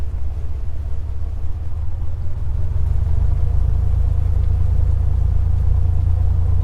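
A Piper Comanche 250 engine in a flight simulator drones at idle after being throttled back, a steady low rumbling hum that stays even and close throughout with no talking.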